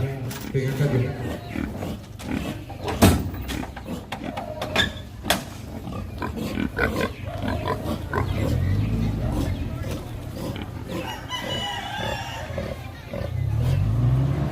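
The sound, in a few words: pigs at a ritual slaughter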